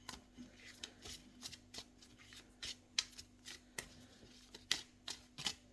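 Light oracle cards are shuffled close up in a quiet room, a series of soft, quick riffling bursts and flicks in an uneven rhythm.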